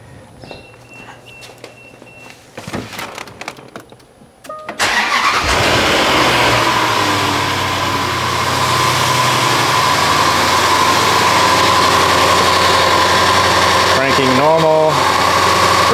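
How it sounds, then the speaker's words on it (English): A Land Rover engine cranks and catches during a battery and alternator test, then settles into a steady, loud idle that holds for the rest of the stretch, with faint movement and shuffling before the start. "Okay, start engine."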